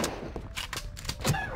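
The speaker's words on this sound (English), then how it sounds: "the sound of gunshots doesn't seem to really faze them" Gunfire in the video game Return to Castle Wolfenstein during a co-op session: four or five sharp, separate shots crack at irregular intervals over faint background game sound, with no voices.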